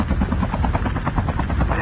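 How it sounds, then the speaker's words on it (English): A helicopter in the Call of Duty Mobile battle royale game thunders close and loud, its rotor chop a continuous rapid pulsing drone with faint voices underneath. "We can't stay on this chopper."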